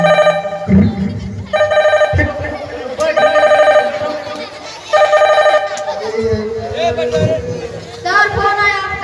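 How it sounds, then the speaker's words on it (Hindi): A telephone in a coaching classroom rings in repeated bursts of bright trilling tones, loud and close, with a pause between rings as children chatter and shout over it. "हमारा फोन बज रहा है"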